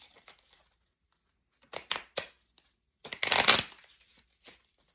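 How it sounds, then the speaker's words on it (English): A deck of playing cards is shuffled in short close bursts: a few quick flicks, then a longer dense riffle of papery clatter, and a last soft tap, with quiet between. "we are going to shuffle the cards again"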